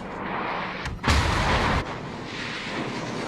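Naval gunfire striking a ship in the World of Warships video game, with a French destroyer under fire: one heavy booming impact with a crackling burst, over a steady rumbling battle background.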